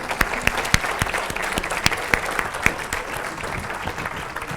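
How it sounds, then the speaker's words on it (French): Audience applause for speaker Jean Fluchère after an energy transition lecture: dense, sustained clapping from a room full of people, close and even in volume, with sharper individual claps standing out and no talk. "je crois qu'on peut applaudir encore Monsieur Flugère"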